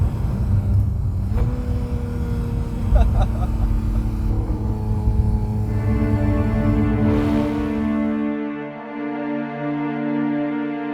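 A 2016 Porsche 911 GT3 RS with a Sharkwerks exhaust revs toward 8,000 rpm, howling through rising, sustained tones, its exhaust note climbing and holding loud before tapering off near the end.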